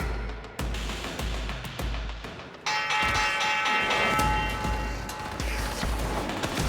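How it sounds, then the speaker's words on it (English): A bell rings in the Warframe game, with a sustained tone sounding over a busy backdrop of repeated low thuds and layered game effects. "The bell about to ring."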